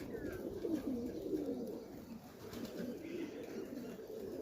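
A highflyer pigeon coos softly nearby, a few low throaty phrases over faint steady background noise, with no voices.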